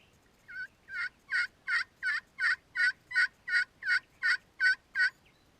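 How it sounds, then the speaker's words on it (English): A wild turkey gobbles outdoors in a fast, rhythmic series of about a dozen bursts, moderately distant and clear, with no talking over it. "Did you just hear that one gobble?"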